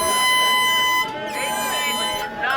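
A loud, sustained air horn blares at an indoor lecture event amid a noisy crowd, its steady harmonic blast running nearly unbroken with crowd noise underneath.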